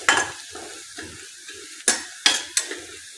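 Spoon stirring leftover chapati with black masala, red chili powder and turmeric in a frying pan: irregular metallic scrapes and clinks over a soft, low sizzle, close up, with no talking.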